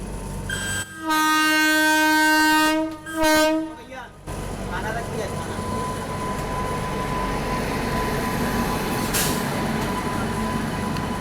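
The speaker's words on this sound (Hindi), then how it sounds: "बगल से पुणे लखनऊ एक्सप्रेस क्रॉस हो रही है" Pune Lucknow Express passing alongside near Itarsi, sounding a loud two-tone horn in long blasts for several seconds, then a steady rumble and rattle of wagons rolling past nearby.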